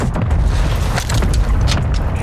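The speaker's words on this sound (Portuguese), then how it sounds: "Se prepare, ataque de morteiro chegando." Mortar strike in Call of Duty Warzone 2.0: a loud, continuous rumbling boom with dense low-end roar and crackling debris, filling the whole moment without pause.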